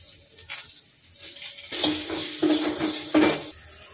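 Onions and green chillies sizzling in a pan for upma, faint at first, then a louder hiss with clinks and scrapes of a utensil stirring against the pan.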